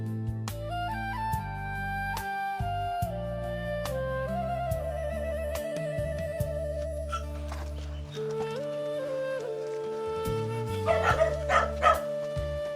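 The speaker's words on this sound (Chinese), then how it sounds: "这个小狗狗不大，都小狗仔。" Small puppies barking and yipping in a remote mountain village, several sharp high barks and whimpers scattered over a steady tonal background, strongest near the end, with no speech.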